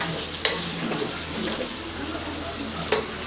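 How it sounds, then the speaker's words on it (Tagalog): Tomato being stirred in a frying pan for seafood marinara, with a soft steady sizzle and scraping under a few brief clinks of utensil against pan, close and moderate in level. "Halu-haluin."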